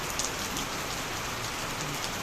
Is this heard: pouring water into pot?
no